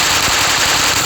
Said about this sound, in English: Or you could pull the pumps back together to fire the both barrels at the same time.